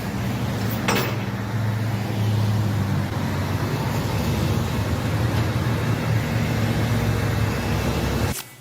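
A car drives off in an outdoor public parking lot, a steady broadband engine and road rumble held at moderate level throughout, ending in an abrupt cutoff with no voices.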